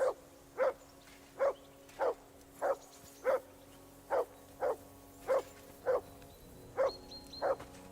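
A dog barks in the video game Kingdom Come Deliverance 2, about a dozen single barks spaced at an even, steady rhythm, moderately close and clear over a quiet background.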